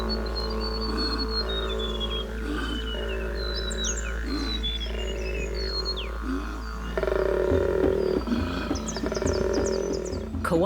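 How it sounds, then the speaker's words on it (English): A male koala bellows during mating season, a deep, guttural, reverberating roar made by inhaling and exhaling at once, rising and falling in rough pulses over bird calls and a constant low rumble, with the roar growing louder near the end. "Koala males make this reverberating noise by inhaling and exhaling at the same time."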